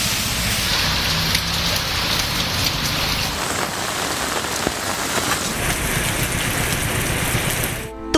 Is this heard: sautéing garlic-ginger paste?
no